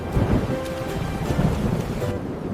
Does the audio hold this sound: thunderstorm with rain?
yes